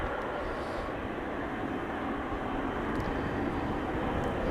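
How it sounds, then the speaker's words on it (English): Emirates Boeing 777-300ER jet airliner at Amsterdam Schiphol Airport, heard as a steady, broad roar of jet engines holding level throughout with no talk over it. "This is Emirates Flight 146 777-300ER. It's going to Dubai."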